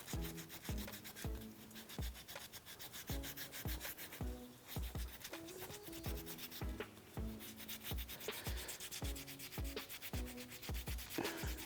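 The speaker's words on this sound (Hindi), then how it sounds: "उसको थोड़ा भिगोएंगे इसमें, ज़्यादा नहीं, थोड़ा भिगोना है, और उस पर रगड़ना है" A damp cotton cloth scrubs back and forth over a paper mache surface, making steady close rubbing strokes in a regular rhythm, each stroke a short soft swish, with no talking.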